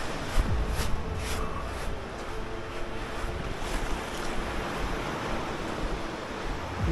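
Sea waves washing onto a beach beside a campsite, a continuous broad roar of surf mixed with gusting wind noise on the microphone, steady throughout with no voices.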